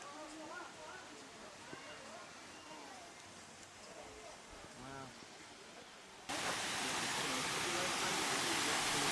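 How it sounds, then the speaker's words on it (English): A waterfall in lush gardens near Chiang Mai, Thailand, rushes as a constant hiss under talking voices, then surges much louder and fuller for the final few seconds. "This waterfall was awesome."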